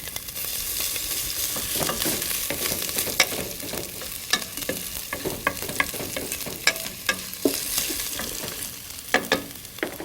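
Cumin seeds, fresh chilies and minced ginger fry in a hot pan, a steady broadband sizzle broken by frequent sharp spatters and pops and the scrape of stirring, close and fairly loud with no talk.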